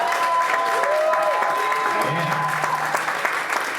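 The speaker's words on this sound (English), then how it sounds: "let's give him another round of applause right there" Applause from a conference audience for a panel on Congolese culture, sports and media, a steady wash of clapping under a voice talking over it.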